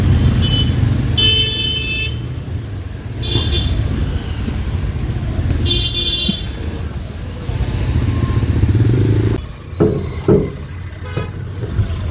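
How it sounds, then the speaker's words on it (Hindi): Motorcycle ride through busy road traffic, a steady engine and wind roar running throughout with car horns tooting in short bursts and a rougher stretch near the end. "यहाँ से मैं अब बाइक कर रही हूँ"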